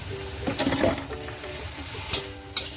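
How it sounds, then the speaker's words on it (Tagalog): Bitter melon and black beans stir-fry in a pan with salt and sugar, giving a steady close sizzle under scraping spatula strokes, plus a few louder clanks near the end, with no talk. "Then, haluin lang natin hanggang sa maluto na yung ating buttermelon."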